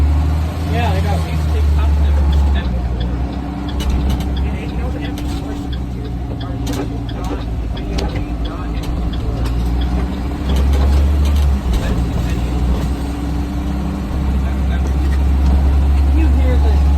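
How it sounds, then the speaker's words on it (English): A bus engine idles and runs with a steady, loud low rumble throughout, while people talk over it nearby. "This thing really does run really good. I love this bus compared to the other ones."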